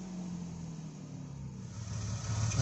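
A Ford EL Falcon engine runs after repair work, a faint steady idle hum that builds slightly toward the end as if revving up.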